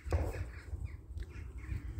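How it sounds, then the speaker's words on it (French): Crows caw faintly in the distance outdoors, a few scattered calls beneath steady low rumble and background noise. "vous entendez les corbeaux?"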